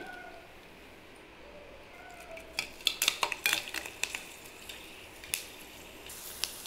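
Onion vadagam goes into hot oil and begins to fry, starting from a quiet background that breaks into a burst of crackling and spatter, followed by scattered pops and a few utensil clinks, fairly faint overall.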